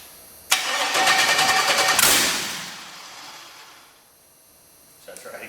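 A kart engine with no exhaust fitted sputters to life abruptly, roaring loud and raw with a rapid rattling beat for about two seconds before fading away.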